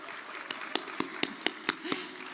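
Scattered hand claps from an awards gala audience, about eight separate sharp claps spaced irregularly across a couple of seconds over a quiet room murmur.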